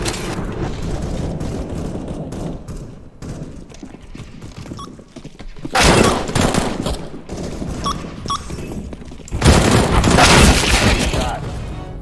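Counter-Strike gameplay gunfire, with loud bursts of shots around six seconds and again near ten seconds, set among softer game sounds and speech.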